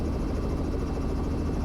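Robinson R44 helicopter engine and rotor running steadily at a helipad pad, a loud, continuous low drone with rhythmic blade chop throughout.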